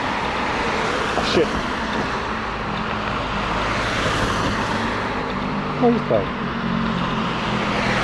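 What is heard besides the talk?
road traffic noise in Berlin street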